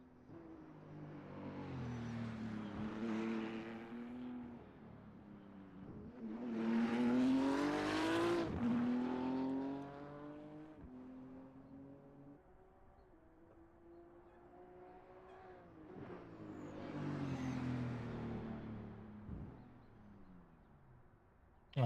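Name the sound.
race cars finishing NLS 3-hour race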